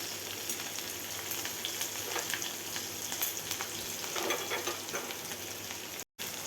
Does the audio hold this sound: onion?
yes